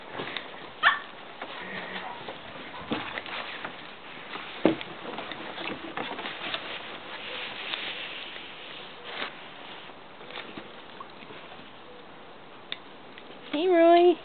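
A happy puppy gives short, scattered barks and yips, with a brief whimper near the end, amid people talking nearby.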